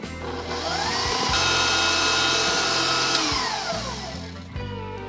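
An electric mixer whipping cream for a stabilized whipped cream, a steady loud motor whine that rises in pitch then drops as it slows, running close and alone.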